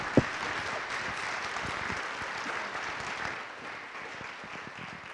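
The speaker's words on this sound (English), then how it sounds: "Give her a round of applause." An audience at a community resiliency night applauds after a keynote speaker, steady clapping from many hands filling the room at moderate volume and thinning slightly toward the end, with no talk over it.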